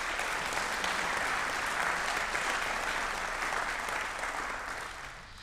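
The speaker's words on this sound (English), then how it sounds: "give them all a big round of applause" A lecture audience gives a sustained round of applause, dense clapping that holds steady and then begins to fade near the end.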